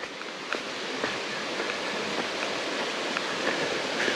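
A creek flows beside a mountain hiking trail, a steady rushing wash of water with faint scattered ticks, heard alone without talk.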